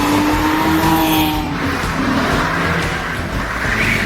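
Cheap rear-wheel-drive Lexus sports car revving hard, a loud engine note that rises then settles as it pulls away, with slight tire noise and no talking.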